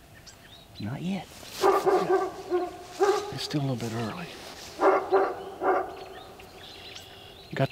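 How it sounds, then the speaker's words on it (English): A dog barks and yips somewhere off in the distance during an early-morning spring turkey roosting hunt, giving short bursts of barking while people talk quietly nearby. "Got the dog fired up over there."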